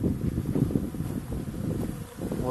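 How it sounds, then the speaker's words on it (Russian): Wind blows outdoors near beehives, a steady low rushing buffet across the microphone that rises and dips slightly, fairly loud and continuous with no talking. "поднялся ветер"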